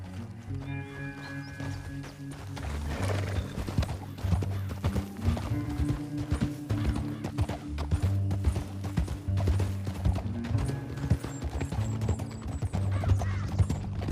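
Rhythmic hoofbeats of galloping horses in the video game Red Dead Redemption clop steadily through a canyon over a layer of dramatic orchestral music, with an occasional whinny.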